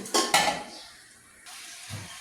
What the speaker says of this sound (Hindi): अब मैं इसमें चिकन डालती हूँ।